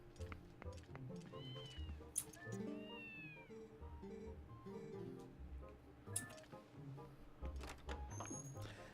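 Cats meow repeatedly in The Legend of Zelda: Twilight Princess, their rising and falling cries standing out over steady in-game village music and ambience, with a few louder calls.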